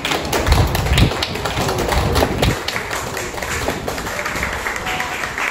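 Classmates in a classroom give a round of applause for an honor student, loud close clapping from a small group that continues steadily for several seconds before stopping abruptly.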